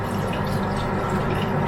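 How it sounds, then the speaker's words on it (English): Water from a tap runs and splashes into a container of frozen broccoli in a kitchen, a close, continuous bubbling pour lasting under two seconds. "I'm going to add some water."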